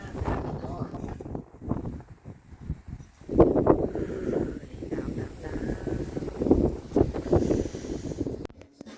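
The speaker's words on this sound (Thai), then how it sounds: "ลมแรงมากค่ะ" Strong wind blows outdoors in cold Norway, gusting and buffeting the microphone in uneven bursts while someone talks over it.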